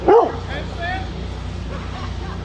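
A police K-9 dog barks during a unit demonstration, one loud close bark opening the clip, followed by fainter yips and whimpers over crowd noise and voices.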